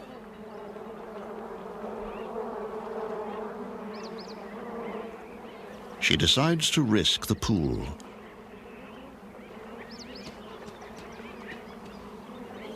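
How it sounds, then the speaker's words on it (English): Bees hum in a steady, low drone throughout from a pit full of bees near a waterhole, with a louder burst of buzzing as one passes close. A voice narrates over the swarm. "She tries a pit, but finds it full of bees."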